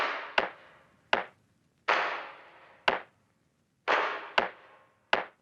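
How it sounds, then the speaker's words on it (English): Hand claps recorded in a living room and processed with reverb, EQ and a transient shaper: sharp, short claps repeating in an uneven rhythm, some with a brief reverberant tail, with nothing else playing. "I actually used my microphone and recorded a whole bunch of claps in my living room"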